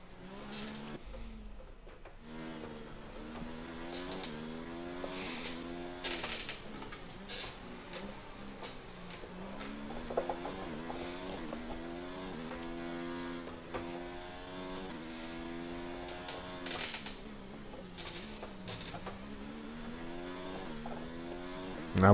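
Formula 1 car engine in the racing video game F1 2019, at the Brazil race with an engine problem, whining steadily with rising and falling pitch through repeated gear shifts and revving, continuous and close with no talking.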